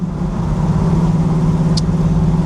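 A fully restored 1969 Chevrolet Camaro 396 SS with a big block V8 cruises along easily, its engine a loud, steady, deep drone with road noise and a brief high squeak partway through.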